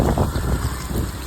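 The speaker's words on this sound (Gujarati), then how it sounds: "એટલો પવન ફૂંકાયો અને ધૂળ ઉડી" Strong gusting wind during a dust storm, a steady rough roar buffeting the microphone with louder surges throughout, no voices.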